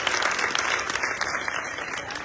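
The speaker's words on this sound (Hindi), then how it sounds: "तो यह साल लंदन जी के लिए जोरदार ताली तो होनी चाहिए" A crowd at a public rally in Nakodar, Jalandhar bursts into sustained applause, a dense, steady wash of many hands clapping at close range for about two seconds, with no speech over it.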